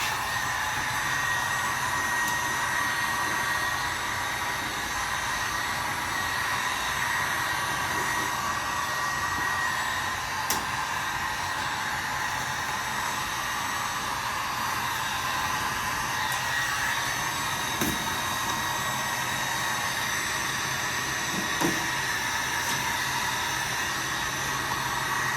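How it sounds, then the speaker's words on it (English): Heat gun blowing steadily while an old original dash is peeled off, a constant close hiss of hot air with a few faint clicks and cracks, no talk. "I'm peeling this old original dash off using a heat gun"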